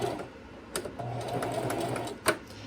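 A sewing machine back-stitches a shirt placket seam: a short, close whirring run with a few sharp mechanical taps, steady and moderately loud with no talking.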